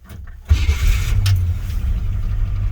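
Brief silence, then a 1969 Jeep Gladiator J3000 pickup truck engine cranks and catches, settling into a steady low idle close by.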